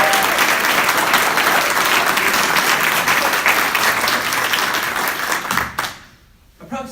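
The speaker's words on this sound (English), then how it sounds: "let's give them a round of applause." Audience at a Humboldt State event applauding nursing students and nurses, loud sustained clapping that fades out near the end, followed by a brief quieter moment.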